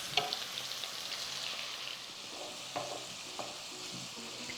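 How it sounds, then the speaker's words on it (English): Egg frying in oil at the side of a pan for pad Thai gives a steady soft sizzle throughout, with a few light scrapes and taps of stirring near the end. "So I'm going to cook it in some of the oil to the side of the pan."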